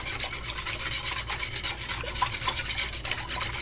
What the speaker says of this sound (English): now I'm gonna take my whisk, and I'm just gonna make sure it's mixed well in here